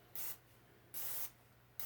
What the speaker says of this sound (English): So here's my quick flushing spray.